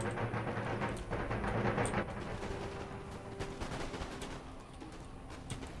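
Janissaries fire a musket volley at point-blank range in Empire Total War, a crackling ragged fusillade of many overlapping shots over a rumbling battlefield din.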